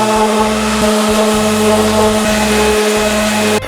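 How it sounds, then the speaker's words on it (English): A loud, steady power sander with 80-grit paper whirs continuously against a wooden board, its motor hum constant with small rhythmic dips as it moves across the surface. "I'll start off by sanding it with 80 grit in all the faces"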